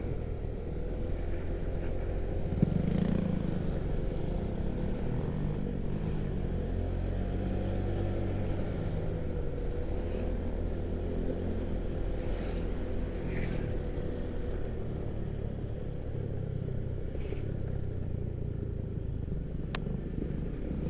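A motorcycle engine laboring uphill at steady, strained revs for a long stretch, droning loudly close up with a constant low rumble and slight pitch shifts.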